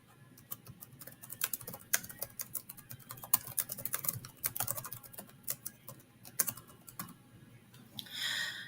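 Rapid clicking keystrokes on a computer keyboard as a question is typed, an uneven patter of taps in bursts, close and fairly quiet, with no talking.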